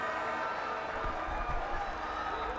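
Applause from teammates and crowd at a Pakistan versus Australia cricket test match as Khawaja reaches his fifty: steady, broad clapping and murmur with no single voice standing out.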